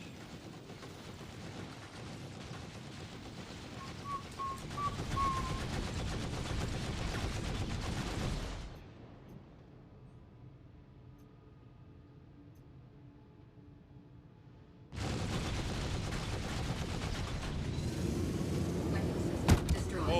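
Gunfire in a video game, dense broadband bursts running steadily for several seconds, a quieter lull, then the heavy firing returns loud and continuous to the end.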